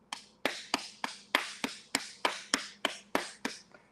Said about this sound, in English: This is how hard I clap.